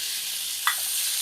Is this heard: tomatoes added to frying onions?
yes